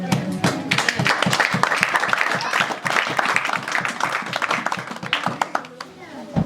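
A church congregation at a night prayer service claps and cheers to acclaim God, with dense, sustained applause and loud voices raised over it throughout.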